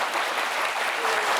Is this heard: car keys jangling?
no